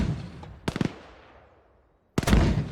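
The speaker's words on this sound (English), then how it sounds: "mortars going out on OP4 markers 1119, 100 meters to your southeast" Mortar rounds fired in ArmA 3 by an infantry mortar team: a quick cluster of sharp launch reports, then a long fading decay and quiet, before a second louder burst of blasts. Nobody talks.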